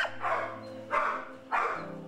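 Dogs at a kill shelter barking, three sharp loud barks spaced about half a second apart, close by, with a steady hum in the background.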